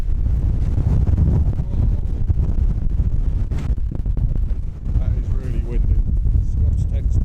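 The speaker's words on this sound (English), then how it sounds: "60-kilometre winds tonight. Slightly over with the gusts" Strong mountain wind gusts of around 60 km/h roar continuously across a camp with tents, buffeting the microphone with heavy low rumble and occasional sharper flaps.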